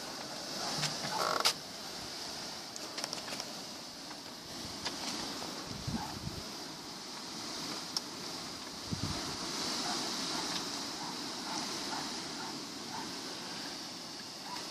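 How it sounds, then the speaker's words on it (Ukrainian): Steady gusty wind roars and rushes against the microphone, with a faint clatter or two underneath and no voices. "Вітер піднявся страшенний."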